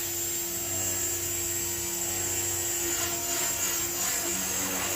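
An Oxy 4 RC helicopter flying at low rotor RPM, a steady whining drone with a constant high tone and a faint rising and falling mechanical buzz, close by and alone.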